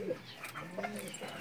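Pigeons cooing close by in short soft murmuring calls, with a few faint chirps mixed in, from racing pigeons being prepared for a last-lap race in Pagudpud, Ilocos.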